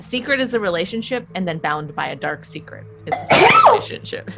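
A sneeze bursts out sharply near the end of a stretch of conversation, loud and close, right after several people finish talking during a tabletop role-playing game session.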